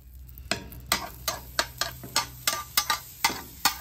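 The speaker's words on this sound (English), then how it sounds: "Might add a nice chunk of butter and get those jalapenos and onions working." Jalapenos and onions cook in bacon grease and butter at about 425 to 450 degrees, heard as a dozen sharp, evenly spaced scraping or tapping strokes over a low sizzle, close and fairly quiet.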